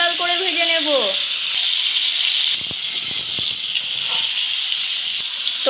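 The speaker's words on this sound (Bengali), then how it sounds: "আমরা ফুলকপিগুলিকে লাল লাল করে ভেজে নেব" Cauliflower florets deep-fry in hot oil, giving a loud, continuous hiss and bubbling roar. A brief tonal sound at the start fades under the steady frying, with a few small pops.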